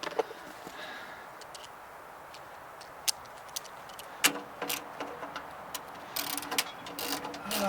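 A ratchet wrench with a 10 mm socket clicks through short runs of quick pawl ticks between quiet pauses, followed by louder metallic clatter.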